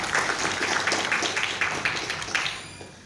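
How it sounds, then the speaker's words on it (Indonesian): Brief, lively audience applause at an anniversary gathering of a Persib supporters' club, with dense close clapping that slowly fades over a few seconds. "Tepuk tangan buat Om Deki ya tuh."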